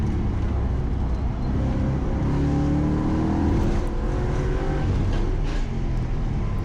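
Mustang GT track car at Laguna Seca, its engine roaring loud and steady from inside the cabin, with rising rev tones and a dip where a gear shift is missed.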